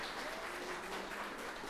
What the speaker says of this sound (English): I want y'all to give a special round of applause to Ms. Berry as being one of the people that really put this together